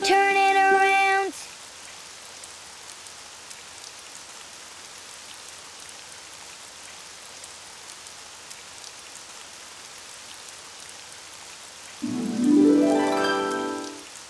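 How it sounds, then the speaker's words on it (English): Steady cartoon rain falls outside as a continuous soft hiss, bracketed by brief musical tones at the start and end, with no voices. "Oh, it's raining outside."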